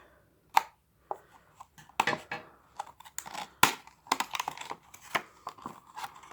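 Packing tape is cut and pulled from a small parcel being unpacked in a series of sharp crackling snips and rips, irregular and close, with no talking.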